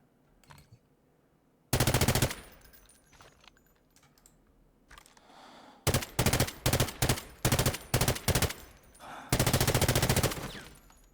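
Short bursts of MK46 light machine gun fire in the shooter game Delta Force, loud and close, with a sustained burst, then a rapid series of brief taps, then another longer burst.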